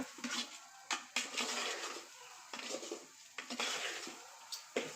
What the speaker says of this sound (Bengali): আস্তে আস্তে ধৈর্য ধরে ভাজতে হবে জোরে দিলে কিন্তু পুড়ে যাবে